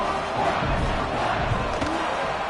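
A stadium crowd in College Football 26 roars continuously, a dense wall of cheering and shouting that stays loud and steady with slight swells.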